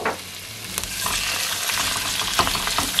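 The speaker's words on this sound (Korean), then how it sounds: "기름에 김치를 충분히 볶아줄 거예요" Kimchi sizzles and crackles steadily in hot oil in a pot over moderate heat as it is stirred, with occasional scraping clicks and no voices.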